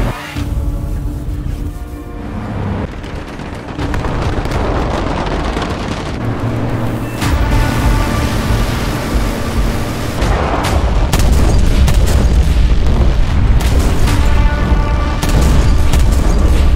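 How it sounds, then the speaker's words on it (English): A 75mm cannon in War Thunder firing high-explosive time-fused rounds at bombers, loud repeated booms at irregular intervals over a continuous rumbling vehicle engine drone. "75mm cannon firing high explosive time-fused rounds, which will quite easily take out one of these bombers if hit just right"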